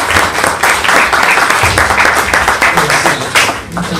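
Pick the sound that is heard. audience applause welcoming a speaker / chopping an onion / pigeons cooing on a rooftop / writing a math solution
audience applause welcoming a speaker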